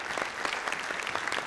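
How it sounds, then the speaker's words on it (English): At a community awards gala, the audience claps for the event's sponsors in a brief, dense burst of even applause, moderately loud with no voices over it. "please stand so we could give you a nice big round of applause"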